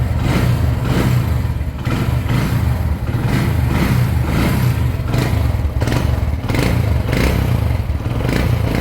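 A Hero Honda CD100 SS motorcycle engine idles steadily close by, a continuous low throbbing putter with a slight rhythmic pulse and mechanical clatter throughout, with no talking.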